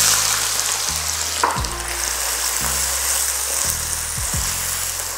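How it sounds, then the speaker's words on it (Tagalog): Sliced onions sizzle and fry in hot oil in a pan while being stirred for kaldereta, a loud, constant crackling close up with a low electronic hum beneath it. "Inuuna ko lang munang igisa itong sibuyas para mas ma-emphasize yung lasa nito"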